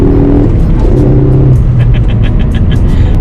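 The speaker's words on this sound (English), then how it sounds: "What you heard there probably on the audio is actually there's a valve that opens up to get more air into the engine" A Ford Focus ST engine under boost with a turbo valve opening, heard as a loud, steady whirring drone that shifts pitch, with faint hissing bursts near the end.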